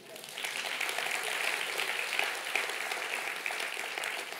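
Congregation applauding during a church service, a steady sustained wash of clapping from many hands throughout, fairly loud and even, with no talk over it.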